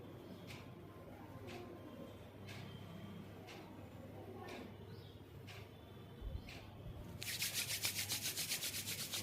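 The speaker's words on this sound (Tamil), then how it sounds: "கைகளை தேய்ச்சிட்டு சூடு பறக்க" Palms rubbed briskly together to warm the hands, a steady dry rasping swish close by that grows louder and denser toward the end, with a few faint taps earlier over quiet room tone.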